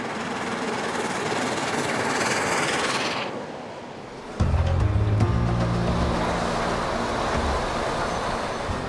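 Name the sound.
Tornado steam locomotive running at speed on East Coast line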